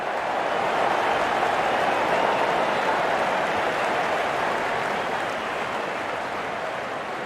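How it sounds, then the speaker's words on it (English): Steady, broad wash of crowd applause and cheering at a packed cricket stadium in the Real Cricket video game, sustained at even loudness throughout without pause. "The crowd is enjoying every bit of this action."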